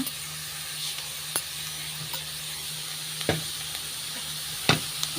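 Vegetables with celery and garlic being stirred in seasoning for fish, sizzling steadily under a constant hiss with a few sharp scrapes and knocks at intervals.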